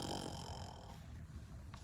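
A person imitates a bear's big, deep snore, a single long rasping breath filling most of the moment before fading into quiet.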